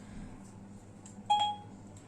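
An iPhone gives a single short electronic beep as Siri switches on by itself, a clear tone rising briefly out of a quiet room, with no talking.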